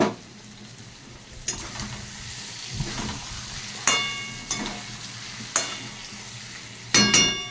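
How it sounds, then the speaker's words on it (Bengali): Fried soybean chunks are sautéed with spices in goat fat in a pan, a constant close sizzle broken by several sharp metallic clacks and scrapes from stirring. "এবার দিয়ে দিচ্ছি এই ভেজে রাখা সোয়াবিনগুলোকে। এগুলোকেও আমি কষিয়ে নেবো একবার।"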